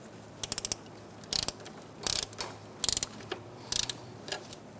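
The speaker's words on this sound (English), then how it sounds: "As we loosen this serpentine belt is going to loosen as well" Ratchet wrench loosening the serpentine belt tensioner on a 2014-2019 Kia Soul with a 1.6L four-cylinder, heard as quick bursts of sharp metallic clicks separated by short pauses, close and clear.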